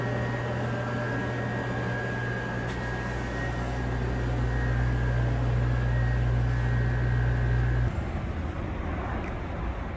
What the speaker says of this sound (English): Delta plane coming in.